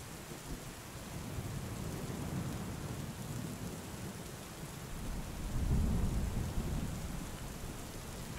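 Heavy rain pours steadily through a wild Highland storm, with a deep rumble of thunder swelling near the end and rolling on under the downpour.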